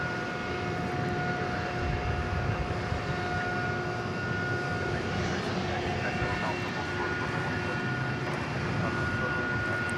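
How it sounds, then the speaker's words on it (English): An Iberia airliner bound for Madrid takes off at night from the west side of DFW Airport, its jet engines a steady, broad roar with faint whining tones that holds for the full ten seconds. "We'll get to see Iberia taking off for Madrid here on the west side of DFW Airport tonight."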